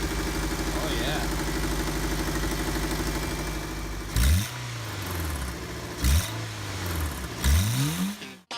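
An old car engine that has sat unused for over a year fires up and idles roughly, then is revved three times in sharp rising and falling surges, close and loud, with some voices in the background.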